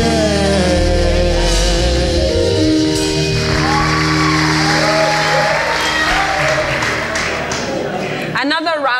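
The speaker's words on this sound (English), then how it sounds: "Another round of applause for the very gorgeous Halimah Abubakar" Near the start a loud music bed with a sung voice plays, then gives way to an audience at a Lokoja show clapping and cheering with scattered whoops, and a voice talks over the crowd near the end.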